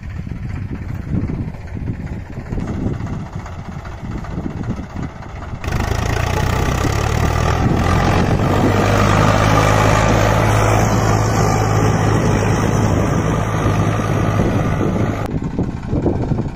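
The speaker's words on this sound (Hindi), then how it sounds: "दोस्तों, अब हम ट्रैक्टर को सीधा चलाएंगे" A tractor engine runs steadily in a farm field, the mid-pitched rumble growing louder partway through and mixed with heavy wind buffeting the microphone; no one speaks.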